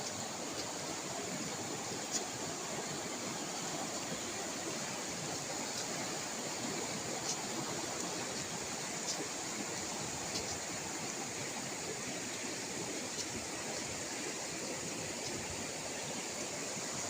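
Strong current of the Pusilaw River rushing steadily, a dense, continuous roar of churning water that stays close and loud throughout, with no voices.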